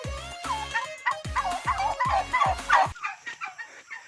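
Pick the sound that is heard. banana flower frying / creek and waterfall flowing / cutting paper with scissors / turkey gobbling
turkey gobbling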